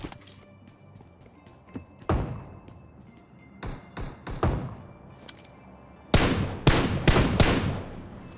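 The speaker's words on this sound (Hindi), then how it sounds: "एट द एंड उसने शॉटगन एक और बजा दी और किल अपना उसने कंफर्म कर लिया" Shotgun blasts ring out in the PUBG Mobile battle royale game, a few loud, sharp reports spaced apart, then a rapid closing cluster of heavy shots.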